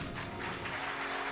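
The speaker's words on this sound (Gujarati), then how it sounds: "પણ તાળી જ હોય" Steady audience applause at a Shrimad Bhagavat Katha religious discourse gathering in Haridwar, a dense continuous wash of many hands clapping throughout, fairly loud and uninterrupted.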